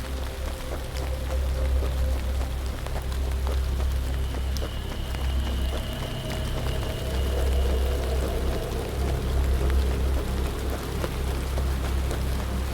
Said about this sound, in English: Oh, you've also got you got actual raindrops.